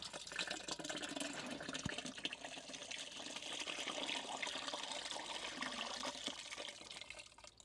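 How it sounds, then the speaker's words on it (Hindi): A mixture of curd and buttermilk is poured into a cow dung fertilizer, producing a faint, steady wet splash and trickle of liquid that lasts throughout, with no talking. "1 केजी इसमें दही है, 1 लीटर इसमें छाछ है, ये मैं मिक्स करके और डाल रही हूँ इसमें"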